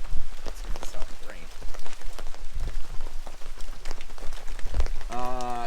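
Steady rain pattering on a surface close by, with scattered heavier drops and a brief tonal squeal near the end.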